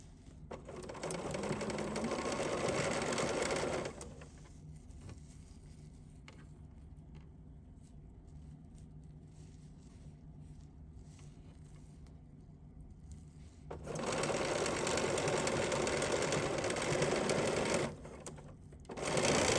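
Bernina sewing machine running a straight stitch with the piping foot in centre needle position, close and loud in two long steady whirring runs separated by a quieter pause, with one brief restart at the end.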